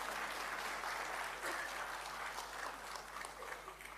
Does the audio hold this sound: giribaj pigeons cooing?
no